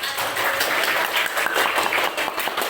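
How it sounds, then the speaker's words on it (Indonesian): Children in a classroom clap together in a steady, dense patter that fills the whole moment, fairly close and even in loudness. "Tepuk tangan buat"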